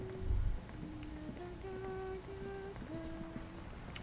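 Steady rain falling in the video game Disco Elysium, a soft continuous patter that sits under sustained musical tones and drones, with no voices.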